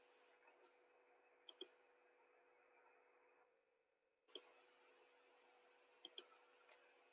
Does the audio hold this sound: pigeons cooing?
no